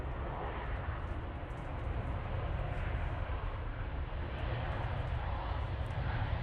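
An arriving airliner at gusty Manchester Airport gives off a broad, continuous roar that builds and holds for several seconds, mixed with wind noise and faint background sounds.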